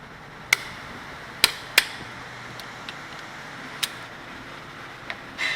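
Sharp metallic hammer taps straightening a front brake part on a 2015 Porsche Macan ring out one at a time, three close together then a few scattered strikes, crisp and near against a quiet background.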